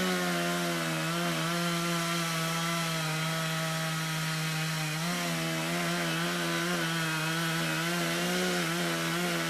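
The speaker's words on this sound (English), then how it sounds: "but I hear a chainsaw" A chainsaw engine runs steadily and loudly throughout, with a strong buzzing drone that briefly shifts pitch partway through as the throttle changes; no voices are heard.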